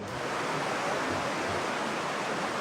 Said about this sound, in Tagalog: Sa Palimbang, Sultan Kudarat, malakas din ang pagragasa ng baha sa kalsada.